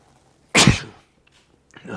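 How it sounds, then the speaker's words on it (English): A single sharp sneeze bursts out close by, followed by a quiet pause and a faint rustle. "I'm gonna sneeze there."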